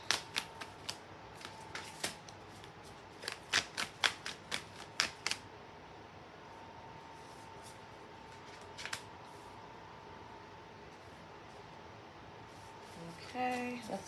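Astro Matrix Tarot cards shuffled by hand, a quick run of crisp riffling slaps and taps in the first few seconds, then quiet room tone with a few faint handling sounds and a soft rustle near the end.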